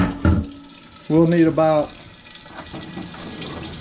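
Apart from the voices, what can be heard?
water poured into a red copper pot for steaming crabs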